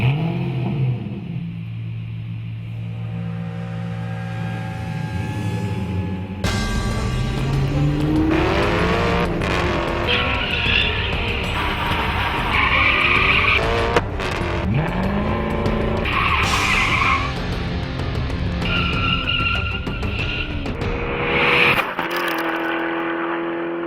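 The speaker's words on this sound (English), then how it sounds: "it's an Italian supercar, and that means a Ferrari-based V8 engine making 450 horsepower, all the bells and whistles. Let's take it for a drive." An Alfa Romeo 8C Italian supercar with a Ferrari-based 450-horsepower V8 roars loudly through revving acceleration and gear changes, its tires squealing and skidding in long screeching bursts that overlap the engine note.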